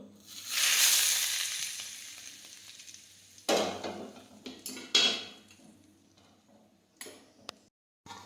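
Hot oil poured over spiced potatoes for a Gujarati snack, giving a loud hissing sizzle that fades, then scattered clinks and scrapes of a spoon against the pan as it settles, with no talking.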